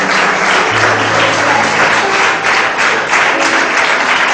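A church congregation gives loud, dense applause, a continuous wash of many hands clapping close by with a low hum of voices underneath.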